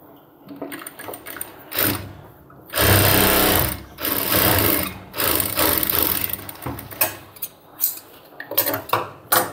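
A sewing machine stitches a cargo half-pant pocket in bursts, running loud for a second or two at a time with short pauses and a few lighter handling clicks between runs.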